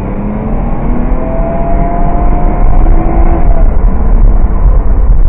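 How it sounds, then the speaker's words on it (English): A 1990 Mercedes 300CE pulling away from a stop at full throttle with kickdown, its engine droning loudly and steadily from inside the cabin, the pitch rising slowly as revs build. "That was foot to the floor and the kickdown switch, and it took that long for it to rev and pull away"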